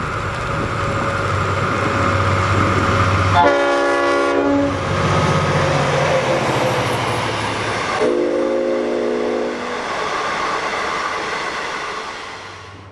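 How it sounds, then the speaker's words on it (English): Locomotive N457 hauls the Southern Cross intercity train to Albury up standard gauge track, a loud diesel rumble carrying throughout with two long, sustained horn blasts, the first near the start and the second later on. "N457 powers up the standard gauge track with the lunchtime Southern Cross to Albury intercity train"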